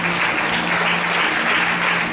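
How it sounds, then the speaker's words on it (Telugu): A congregation claps loudly and steadily at a Good Friday service in Holy Shalom Church, Choppadandi, a dense, unbroken wash of applause with no voices over it. "ఆ ప్రభువుకు గట్టిగా చప్పట్లు కొడదామా?"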